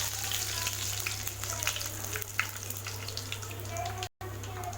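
A sprig of curry leaves crackles and sizzles in hot oil already popping with mustard seeds, urad dal and fenugreek, a steady close fry with a low hum beneath and a voice speaking over it.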